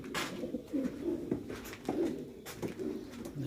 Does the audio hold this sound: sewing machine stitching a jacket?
no